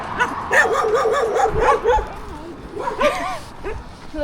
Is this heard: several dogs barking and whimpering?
yes